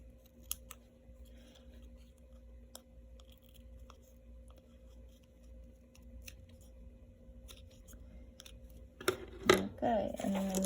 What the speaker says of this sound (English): and then I'm just fussy cutting around it again